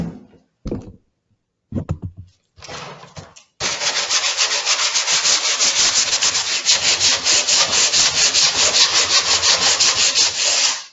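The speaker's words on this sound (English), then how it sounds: "sand a lot of the leftover paint away" A sanding block rubs leftover paint off wooden cabinets after citrus stripper has been scraped away: a few short scrubbing passes, then a long continuous rapid back-and-forth rasp, loud and close.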